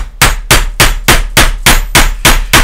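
Hammer banging on a desk while an M&P 9 pistol is taken apart: nine loud, sharp, evenly spaced blows about three a second, close to the microphone, with no talking.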